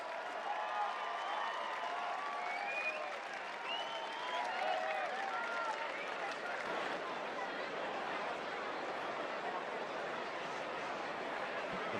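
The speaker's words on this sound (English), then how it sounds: "Give him a big round of applause, the winner of the Coral Eclipse" A racecourse crowd applauds Twice Over, winner of the Coral Eclipse, with steady, moderately distant clapping that carries on for about twelve seconds. Scattered cheers and chatter drift through, and a few voices rise above the crowd early on.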